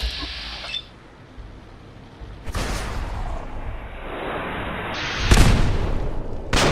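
Cannon broadside fire in Fallout 4: loud, deep booming blasts that erupt twice over a rumbling background, the second burst heavier and rolling on after the hit.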